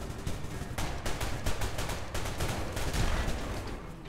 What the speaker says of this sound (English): They shoot so fast, the Segway guys do.